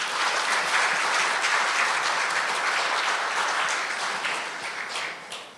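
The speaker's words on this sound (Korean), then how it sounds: "우리 모두를 위해서 박수 한번 부탁드리겠습니다" A roomful of attendees at a G Valley CEO forum claps, a dense, steady wash of applause that holds loud for several seconds and then gradually tapers off.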